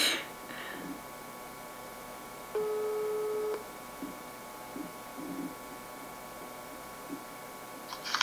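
Telephone ringback tone during a call, a single steady electronic tone lasting about a second, clear over a quiet, hissy line with no voices.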